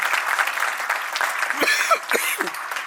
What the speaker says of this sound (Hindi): तो आप जोरदार तालियां हम सबके लिए बजा सकते हैं